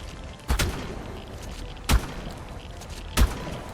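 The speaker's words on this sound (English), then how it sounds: "Shotgun's pretty powerful against them too." Three heavy shotgun blasts boom in ARK: Lost Colony, spaced evenly about a second and a half apart, each a loud close punch with a short rumbling tail over a steady low game ambience.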